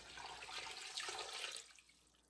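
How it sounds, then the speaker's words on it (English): Water is poured over chicken quarters in a pot, a brief splashing gush that fades out after about a second and a half, with no speech. "Then you want to put some water on it."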